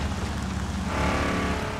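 A car engine in the video game Tales from the Borderlands drones steadily as the car drives, loud and continuous, its tone shifting partway through, with no talk.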